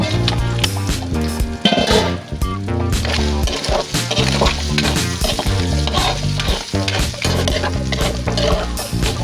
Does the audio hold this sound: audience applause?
no